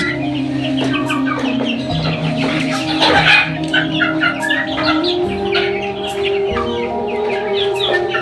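A flock of Egyptian Fayoumi chickens clucks continuously and up close, with overlapping calls and occasional louder squawks, and no one speaking.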